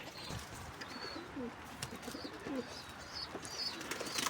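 Homing pigeons that have just flown outside their loft coo softly, with a few chirps mixed in. The calls are faint and a little distant, set against steady outdoor background noise, and no one speaks.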